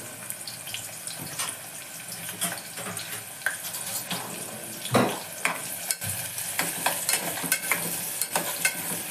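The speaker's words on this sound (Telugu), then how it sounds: "ఉల్లిపాయలు మగ్గే వరకు వాటిని కలుపుకుందాం." Chopped onions and whole garam masala fry in oil for a Telangana-style mutton curry, a continuous sizzle with frequent spoon scrapes and clinks against the pot, moderately quiet and close.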